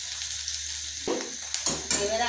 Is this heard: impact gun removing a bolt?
no